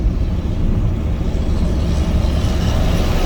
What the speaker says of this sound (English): I want you to hear this truck.